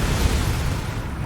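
A Confringo spell blast in the video game Hogwarts Legacy goes off as a short, dense, booming burst of broadband noise that fades slightly over about a second.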